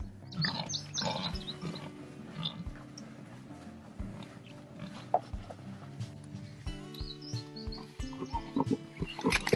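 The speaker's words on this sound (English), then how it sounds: "These mud pits provided hours of entertainment for the pigs, which in turn entertained us." Pasture-raised pigs grunt and oink around rain-filled mud pits on a small farm, with chickens clucking nearby; the animal calls come close and irregular, with no voices over them.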